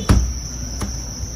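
Crickets at a cricket farm, with a steady high insect trill running through and two short sharp knocks near the start and middle.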